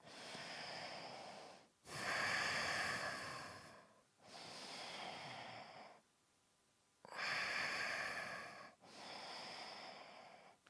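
Slow, deep breathing of a person holding cobra pose in a yoga class: five long, close breaths, each a steady airy rush of one to two seconds, with brief pauses between them and no talking.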